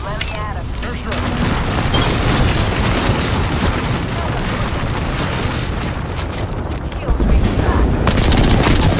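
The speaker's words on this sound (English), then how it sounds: "Airstrike." Gibraltar's airstrike in Apex Legends pounds the area with a dense, loud barrage of booming blasts and rapid explosive cracks that run almost nonstop, with a heavier burst near the end.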